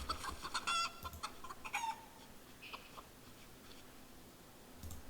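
Chickens in a video game cluck and squawk in a loose, irregular series of short calls, fairly close, with quieter pauses and a final burst at the end, with no voices.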